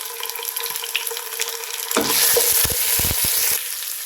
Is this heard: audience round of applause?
no